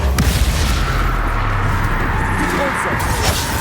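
Depulso spell cast in combat in the Hogwarts Legacy video game, a steady dense rumbling blast of magic with booming low-end under continuous battle noise, loud and sustained throughout.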